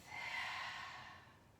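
A single slow, airy exhalation during seated chair practice, soft and close, fading out gradually.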